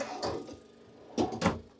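A small drawer in an RV bathroom slides open and shut, giving a soft scrape followed by two quick, close knocks.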